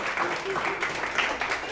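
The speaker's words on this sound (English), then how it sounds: "I think he deserves a round of applause" A short burst of clapping from a small crowd, steady and moderately loud, with some talking mixed in.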